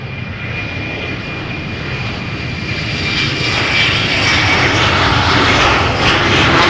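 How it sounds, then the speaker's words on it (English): KLM Embraer jets at Amsterdam airport fill the air with a steady, broad engine roar that builds gradually louder, with a faint high whine running through it and no talking. "getting our daily dose of KLM Embraers again at the moment"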